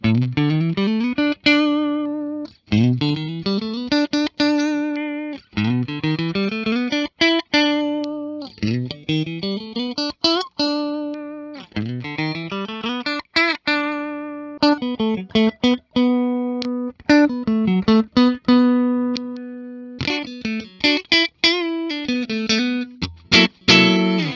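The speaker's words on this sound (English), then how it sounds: "As far as clean tones go, I'm really digging this guitar" A 2022 Ibanez Ichika Nito ICHI10 headless electric guitar played on a clean tone, with bright plucked chords and arpeggiated phrases in steady bursts, ringing close and loud with no talking.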